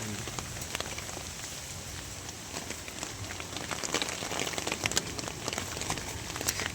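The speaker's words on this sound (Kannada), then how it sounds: "ಈ ಮಳೆ ಬರ್ತಾ ಇದೆ" Steady rain pours down outdoors near Kedarnath with a dense, even hiss. Scattered sharper drops and spatters break through the wash, growing slightly heavier toward the end, and no one speaks.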